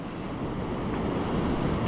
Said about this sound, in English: waves breaking on top of each other